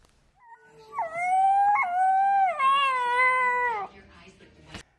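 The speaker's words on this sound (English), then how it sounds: "Simpson is a 7-week-old gray wolf pup found abandoned on some private property near Condon, Montana." A 7-week-old gray wolf pup's high, wavering howl rises and holds for about three seconds, fairly close and clear, then breaks off into a short yelp.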